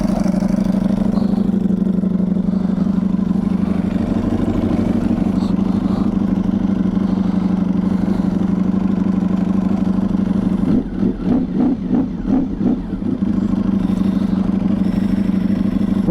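A modified Ducati V4 R motorcycle with the exhaust baffles removed idles loudly nearby, a deep steady rumble that holds throughout, with a short uneven burst of throttle blips toward the end.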